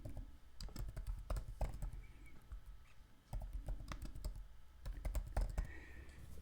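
Quick irregular tapping on a computer keyboard, faint and close, comes in short bursts with brief pauses while data is entered.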